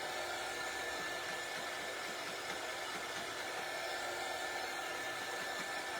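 A hair dryer blows steadily and continuously, drying a craft project with a constant even whoosh throughout.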